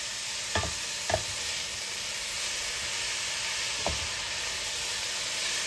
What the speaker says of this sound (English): we're going to toss it a little bit